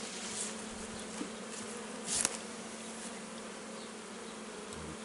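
Honeybees buzz steadily during a transfer of a colony from a wooden box into a hive, a dense, continuous drone with a brief louder rise near the middle.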